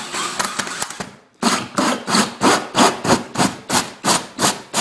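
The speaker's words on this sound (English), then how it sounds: "So I'm not going crazy trying to drill that hole." Rhythmic wooden rasping as a drill bores a hole into wood: a quick burst of strokes, a short pause, then about a dozen steady, even pulses as the bit bites in.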